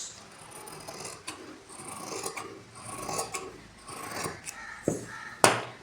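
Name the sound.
cutting blouse fabric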